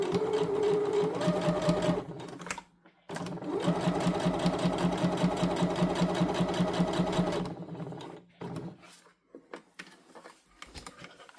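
A domestic sewing machine runs in close, steady bursts while stitching fabric for a scrunchie, with a short pause near two seconds and the motor stopping after about seven seconds, leaving faint handling noises.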